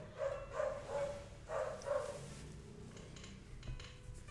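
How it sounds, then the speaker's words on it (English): A dog gives around five short barks spaced roughly half a second apart, moderately near but not loud, then goes quiet with faint background noise. "We love the doggy, don't we?"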